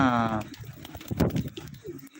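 A Karna fancy pigeon gives a short, close, throaty coo at the start, followed by someone talking nearby.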